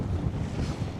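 Gusty wind rumbles across a microphone on a bench beside the East River in New York City, a steady low roar with no voices.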